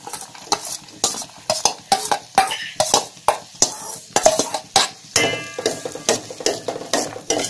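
Okra (ladies finger) sautéing with onions in a pan, a spatula scraping and clacking in quick uneven strokes over a light sizzle, close and fairly loud.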